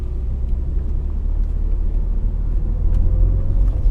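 A manual car pulls away in first gear, with a steady low engine rumble that rises gradually as it gathers speed, heard close from inside the cabin with no talking.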